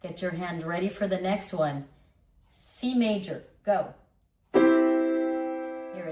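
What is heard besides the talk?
None of the usual background noises is heard.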